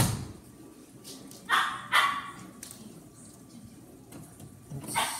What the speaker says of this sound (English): What is, did you find something, Zoe the Wonder Dog